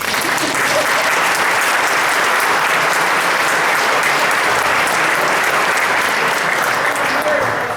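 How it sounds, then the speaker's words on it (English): Loud, steady audience clapping at a voter integrity forum, a thick continuous roar of many hands applauding without pause, close and full throughout. "And that's where you clap."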